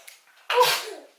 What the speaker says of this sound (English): He has been sneezing a lot lately.